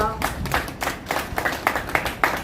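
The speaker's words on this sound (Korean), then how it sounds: "이 시간 하나님 앞에 감사의 박수 올려드리겠습니다" A church congregation claps in thanks during a prayer service, with quick uneven handclaps from many people forming a lively ripple of applause.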